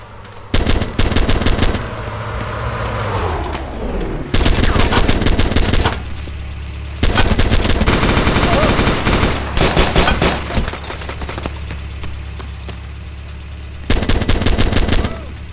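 Automatic gunfire from ArmA 2 Operation Arrowhead, loud and close, comes in long sustained machine-gun bursts separated by short pauses, with a low engine-like drone underneath.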